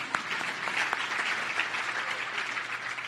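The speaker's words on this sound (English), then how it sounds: "You don't have to clap too long for them, but just a little one because they're not here." Applause from an audience at a city State of the City event, a short steady burst of many hands clapping at moderate distance with no talk over it.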